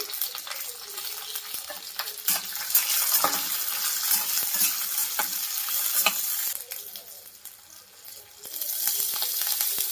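Roasted chana dal (putnalu) with paneer frying in a pan, a close steady sizzle with clinks and rattles as it is stirred, briefly dropping in level before swelling again, with no talking.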